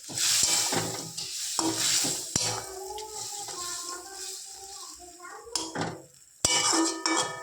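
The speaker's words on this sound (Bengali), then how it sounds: "ভাজা মাছগুলো একটু নেড়ে নিতে হবে।" Fried fish being stirred in a pan, with close scraping and clinking of a utensil against the pan over a soft sizzle, in intermittent strokes and a brief pause near the end.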